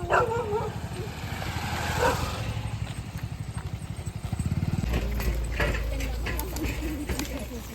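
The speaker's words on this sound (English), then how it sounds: "This dog." Dog barking and yipping outdoors in an Indian village, a few sharp barks among motorcycle engine rumble and bird calls, with people talking nearby.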